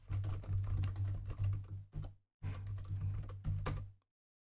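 Rust code is typed on a computer keyboard in dense, rapid clicking bursts with one brief pause, ending in silence.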